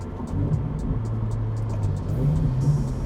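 A 2022 GR86/BRZ with a Remark Boso Edition axleback exhaust rumbles low and loud up close, its engine note rising and falling through a couple of revs.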